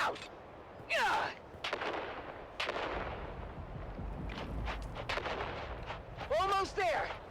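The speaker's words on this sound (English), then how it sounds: "On 3, we grenade and move! 3, 2, grenades out!" Grenade blasts in a video game ring out as several loud, sharp bursts with booming low rumble, scattered across the stretch amid other gunfire-like reports, while players shout and talk over them.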